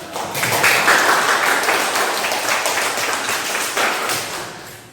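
Audience applause during a classroom business presentation, a dense, steady patter of many hands clapping, loud and sustained across the whole span before tapering slightly at the end.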